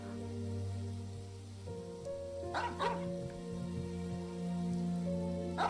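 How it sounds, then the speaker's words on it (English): A dog barks at a cemetery in a video game, two short barks heard a moment apart over a steady humming ambient drone, with no speech. "Why the barking at the cemetery?"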